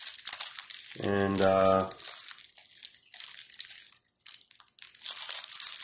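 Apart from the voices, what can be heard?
crinkling packaging being opened around a buckskin wallet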